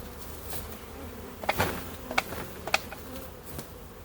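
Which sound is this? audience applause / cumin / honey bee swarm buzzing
honey bee swarm buzzing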